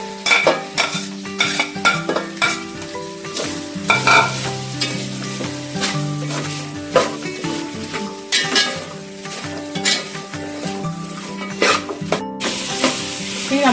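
Onions for a Kerala-style chicken perattu fry and sizzle in a pan while a utensil stirs and scrapes them in quick, irregular strokes, with a clack of cookware near the end.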